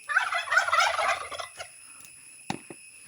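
A Bourbon Red turkey gobbles in a loud, rapid burst up close, followed by a few short clucks and a sharp knock after a pause.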